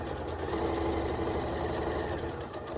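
A sewing machine runs continuously, stitching down the elastic on a fabric face mask with a steady mechanical whir and light rhythmic hum, close and uninterrupted.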